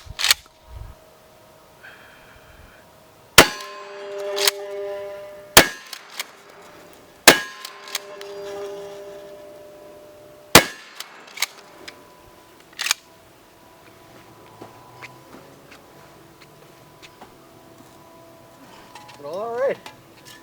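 Rifle rounds strike an AR450 steel target outdoors, a series of sharp isolated cracks and clangs spaced a couple of seconds apart, each with a short ringing tail, amid quiet open-air background.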